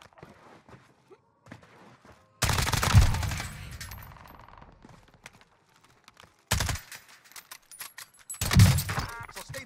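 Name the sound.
gunfire in the video game Call of Duty: Warzone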